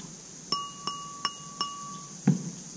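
A glass dish tapped several times in an even series, each strike a short dry clink with no lingering ring, then one duller knock at the end; close and fairly quiet.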